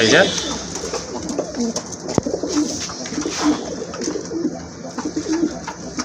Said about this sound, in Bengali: কবুতরটা মাশাআল্লাহ খুবই ডাকাডাকি শুরু করছে